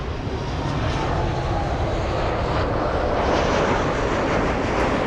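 Large passenger airplanes at LAX airport roar steadily with broad, continuous engine noise that stays loud and close throughout, with no voices.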